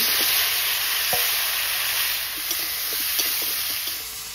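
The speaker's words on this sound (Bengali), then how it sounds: "ওলটা এদিকে ভাজা হতে থাক" Pieces of elephant foot yam fry in hot oil with onion, slit green chili and five-spice seeds, giving a steady bright sizzle with a few soft stirring knocks, close and alone.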